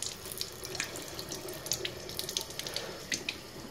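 Kangen water running from a tap into a container, a steady close splashing stream with small bright droplet spatters throughout.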